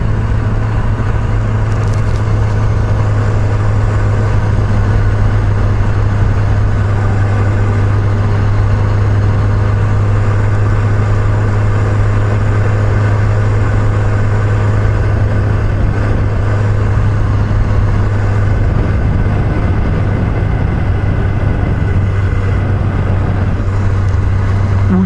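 Traffic on a roadway heard from a motorcycle, engines idling and rumbling in a constant loud drone with a strong low hum and no distinct passes.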